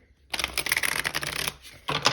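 Tarot cards riffle and slide during shuffling, a close, crisp rapid flutter lasting over a second, then a pause and another short burst of card noise.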